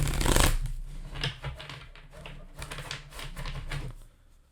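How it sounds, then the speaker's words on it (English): A deck of playing cards is shuffled close by, giving a quick burst of riffling followed by a series of soft, uneven flicks and taps that fade out. "The decks did not want to be shuffled."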